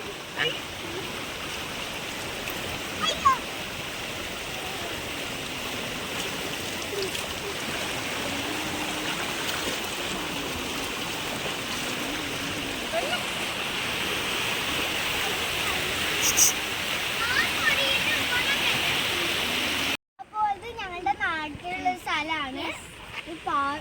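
Floodwater rushing where a paddy field and a stream have merged in heavy rain, a continuous loud broadband wash of water, with a brief voice cutting in over it at the end.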